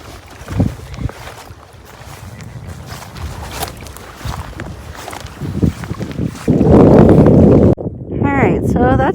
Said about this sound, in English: I just really don't like the biting wind here.